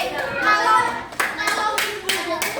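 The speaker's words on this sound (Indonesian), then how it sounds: "tepuk tunggal, ganda, tunggal, ganda, tunggal, ganda" Children in a classroom clap their hands in single and double claps, sharp separate bursts sounding over a voice that talks throughout.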